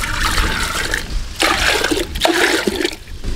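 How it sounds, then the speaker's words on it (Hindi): Water gushes and splashes into a cooking pot set on a stove, pouring unevenly in several surges with short breaks, loud and close. "हांडी में डालेंगे पानी।"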